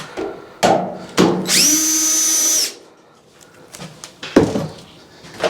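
A cordless power drill backs screws out of a Whirlpool Duet dryer during a belt replacement, with one sustained whirring burst of about a second amid knocks and clunks from handling the panel.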